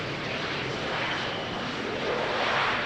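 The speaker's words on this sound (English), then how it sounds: "the KLM City Hopper Embraer. The City Hopper vacating the runway here." KLM Cityhopper Embraer jet rolling along the runway toward an exit at Amsterdam Schiphol, a steady broadband engine roar at moderate distance that swells slightly toward the end, with no voices.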